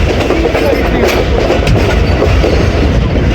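Hazara Express pulling into platform 3 at Rawalpindi railway station, a steady loud rumble of wheels and rolling coaches with faint clickety-clack, continuous and close throughout.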